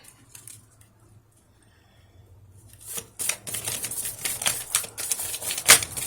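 Moonology oracle cards shuffled and drawn by hand, a quiet stretch giving way after a few seconds to a run of close, crisp papery flicks and rustles with a sharp snap near the end.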